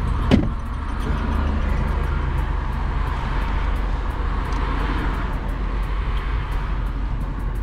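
A car engine runs loudly in sport mode during a roadside police stop, a steady close rumbling drone that holds through the whole stretch, with a brief knock near the start.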